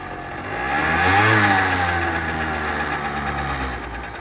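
A small Suzuki ZZ Inch Up Sport scooter engine idles steadily nearby, its motor swelling briefly in pitch before settling back to an even putter.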